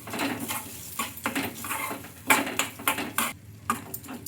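Chili paste being stirred into a mixture in a pan, with repeated metallic scrapes and clinks of a utensil against the pan in an uneven rhythm, close and moderately loud, no talking.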